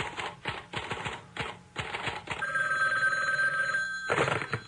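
A toy tooth fairy telephone rings in short bursts of bell-like clatter, then gives a sustained ringing tone and a final burst, loud and close with no talking.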